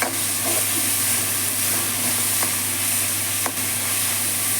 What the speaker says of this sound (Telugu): పచ్చిమిర్చి కొంచెం పచ్చివాసన పోయేంత వరకు వేయించుకోవాల్సిందే